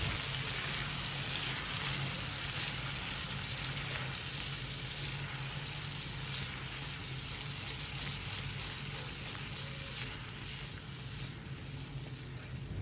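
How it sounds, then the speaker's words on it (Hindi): Yogurt being stirred with a spoon into keema frying over a low flame, giving a steady, moderate sizzle with soft wet stirring textures and no talking. "चम्मच को साथ साथ इस तरह से हिलाते जाना है"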